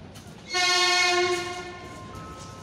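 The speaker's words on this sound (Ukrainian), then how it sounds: "електропоїзд номер 633 Київ-Спасів буде відправлений з 25-ї колії" An electric commuter train at a Kyiv station sounds its horn, a single loud sustained multi-tone blast of about a second that then fades into the hum of the platform.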